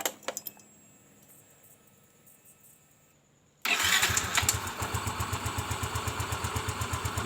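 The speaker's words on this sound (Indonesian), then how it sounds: "Mantap, motor ini langsung hidup dengan normal." A motorcycle with its ignition coil and fuel pump under diagnosis is started after a battery terminal check: a few clicks, quiet, then the engine catches abruptly and settles into a steady, loud, rhythmic idle, close up with no talk.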